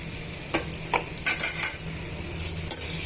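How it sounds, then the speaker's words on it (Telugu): Chopped tomatoes sizzle and fry with okra in a pan while being stirred, with soft scraping strokes and light clinks from a utensil at irregular intervals over a steady sizzle, close and moderately quiet, no voices. "ఇందులోనే మనము కట్ చేసి పెట్టుకున్న ఒక నాలుగు టమాటాలను యాడ్ చేస్తున్నానండి"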